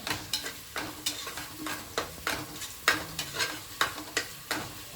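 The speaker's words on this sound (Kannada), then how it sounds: "ಮಸಾಲ ಎಷ್ಟು ಫ್ರೈ ಆಯಿತು ಅಷ್ಟು ಚೆನ್ನಾಗಿರ್ತದೆ." Masala sizzles in a pan while being stirred for homemade chilli chicken, with a steady run of sharp spoon scrapes and clanks every half second or so over a constant fry hiss, close and alone.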